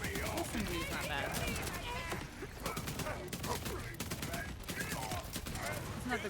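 Submachine gun fire in a video game comes in rapid, sustained bursts that run almost continuously with brief gaps, loud and close, while a voice talks over the shooting.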